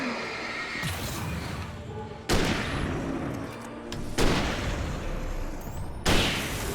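Flare gun shots in the video game Alan Wake Remastered: four loud, sharp blasts spaced a second or two apart, each followed by a hissing, fizzing tail, over a rumbling background.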